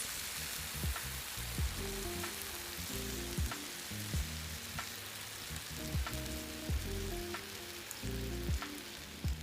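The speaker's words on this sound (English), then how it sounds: "it will be golden and flaky and sizzling when you pour that syrup over top" Vegan baklava, golden and flaky, sizzles hard as syrup is poured over it, a dense close crackle with rhythmic bubbling pops and no voices.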